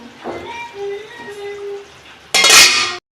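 A pot lid is lifted off a simmering pot of mixed vegetables cooked with lentil dumplings (bori) in a home kitchen, giving one loud, bright metallic clatter and scrape near the end after quieter kitchen noise.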